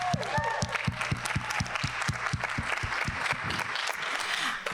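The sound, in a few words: audience hand clapping applause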